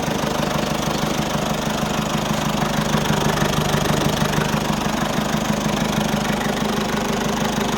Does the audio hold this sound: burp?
no